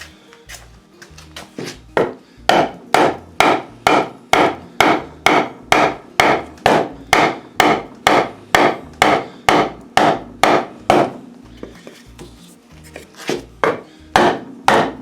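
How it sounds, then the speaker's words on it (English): Repeated hammer blows drive a handlebar grip onto a Can-Am, about two dozen sharp, evenly spaced knocks close by, pausing briefly near the end before a few more strikes. "Need a hammer."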